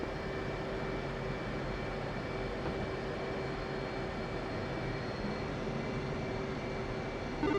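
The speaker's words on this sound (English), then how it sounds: "Sting 1 flight of 4 F-18s on the southeast ramp, taxiing to the rearming stand" A flight of four F-18 jets taxis across the southeast ramp of an air base, a steady distant engine drone and whine holding level throughout with no voices.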